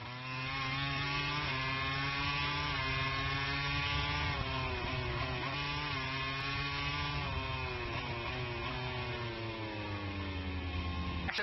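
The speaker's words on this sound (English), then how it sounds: "The Ducati launches out." A Ducati MotoGP motorcycle accelerates at the Motegi circuit in Japan, producing a loud, continuous high-revving engine whine with rising pitch heard through a broadcast feed.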